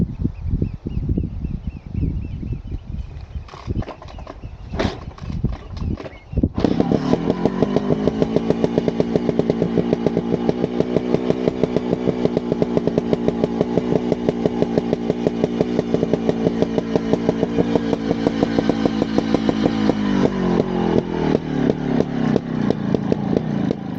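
A Scorpa 250 trials motorcycle idles and blips unevenly at first, then revs up and holds a steady, pulsing drone while being ridden, loud and close.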